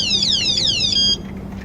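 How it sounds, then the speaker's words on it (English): A campervan's electronic alarm wails loudly in repeating falling sweeps, then shifts to a steady buzzing tone before cutting out. "Yep, that's my alarm."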